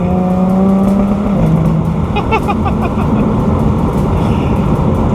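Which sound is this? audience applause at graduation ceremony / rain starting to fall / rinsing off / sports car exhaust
sports car exhaust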